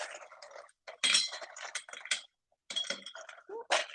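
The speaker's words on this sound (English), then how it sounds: "I'm just gonna add a little bit of ice" Ice cubes clinking as they drop into a cocktail shaker while mixing rum punch, a few scattered rattling bursts separated by brief pauses, close and fairly clear.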